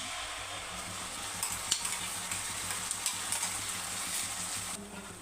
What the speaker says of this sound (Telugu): చూడండి అంత పేస్ట్ వేసేసాం కదండి మనం మసాలాలు ఫ్రై చేసి పెట్టుకున్నాం